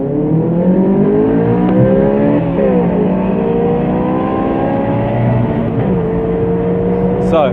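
A Honda S2000 and a 1.5-litre Mazda MX5 pull hard in first gear side by side, with a loud, sustained engine drone that rises in pitch and shifts slightly throughout.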